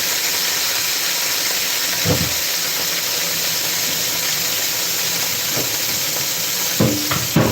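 A steak fries in a pan with a steady, loud hiss of sizzling fat, interrupted by a few brief clunks and scrapes of the pan or utensil, no talking.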